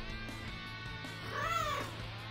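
A cat's meow from the visual novel Princess Evangile, one short rising-and-falling cry over steady background music, fairly quiet.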